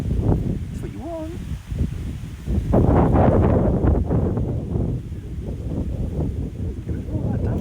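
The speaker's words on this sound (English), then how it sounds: "It's a bit windy." Wind gusting outdoors, a steady low rumble buffeting the microphone that swells louder about halfway through, with people talking over it.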